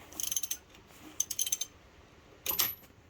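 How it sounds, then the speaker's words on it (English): A ratchet clicks in short bursts while turning over a twin-plug Pro-Stock 426 Hemi engine by hand, with three quiet clusters of metallic ratcheting close by and pauses between them. "that'll work if we can operate the ratchet and hold the camera"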